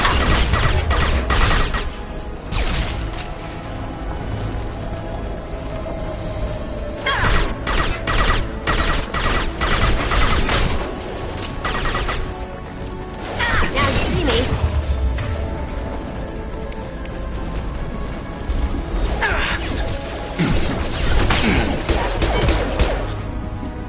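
Dense video game gunfire in Mass Effect 2 on PS4, with loud overlapping bursts and crashes that come in waves over busy combat sound and brief voice lines.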